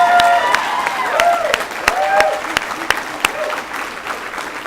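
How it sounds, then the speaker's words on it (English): A graduation ceremony audience stands and applauds for Sarah, a dense, steady round of clapping with sharp individual claps standing out, while a nearby voice talks over it. "let's give Sarah the round of applause that she deserves"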